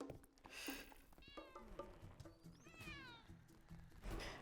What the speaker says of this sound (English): And it sounds like Snowdrop is going to be the world's most noisy cat.